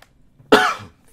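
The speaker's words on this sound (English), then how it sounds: "Can't stop coughing." A single harsh, close cough bursts out after a brief silence, then fades quickly.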